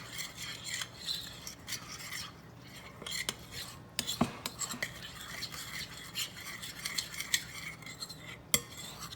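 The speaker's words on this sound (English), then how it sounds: "we're going to add our cocoa. And just start giving that a mix" Cocoa powder stirred into melted butter with a spoon, a close, quiet run of scraping, rubbing strokes against the bowl with a few sharper clinks, and no talking.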